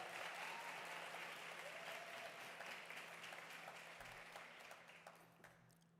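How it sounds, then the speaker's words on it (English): An audience at a faculty of education awards ceremony applauds the deputy vice-chancellor in steady, dense clapping that gradually thins and fades toward the end, with a low hum beneath it. "we can do better with an applause for our DVC"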